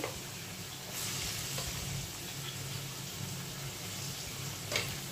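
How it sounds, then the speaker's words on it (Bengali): Potatoes fry over a low flame in oil with turmeric and salt, a continuous close sizzle with a couple of brief scraping stirs. "আলুটাকে আমি ভেজে নিই"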